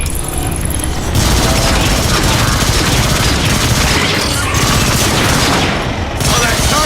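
Dense, continuous sniper and weapon fire from the video game Transformers: Fall of Cybertron, with heavy booms and crackling blasts layered over a loud, rumbling battle din that barely lets up.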